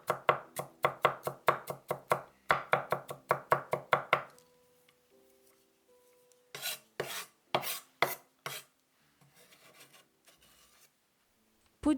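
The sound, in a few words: knife chopping garlic cloves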